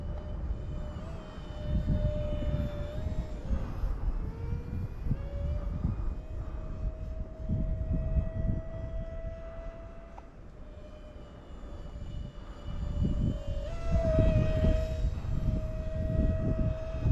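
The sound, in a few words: Dark Star EDF jet RC airplane flying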